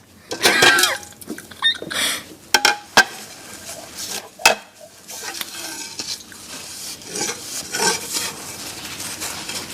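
Dishes, pots and utensils clatter and scrape in a sink during washing up, with irregular loud clanks and metallic knocks over several seconds, close and busy.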